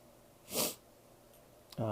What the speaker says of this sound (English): Suddenly I have the sniffles.